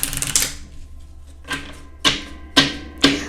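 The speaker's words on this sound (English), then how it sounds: "I want to pull some cards here." Tarot cards are pulled and shuffled in several short, crisp bursts of riffling and slapping, spaced about half a second apart, close and fairly quiet.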